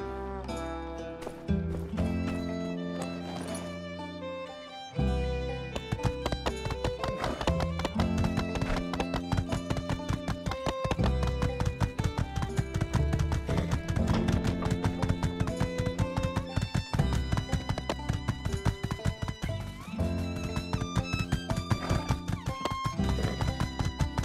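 Horse hooves trotting in the video game My Time at Sandrock, a steady rapid clip-clop rhythm running under game music throughout, briefly pausing then resuming, loud and close.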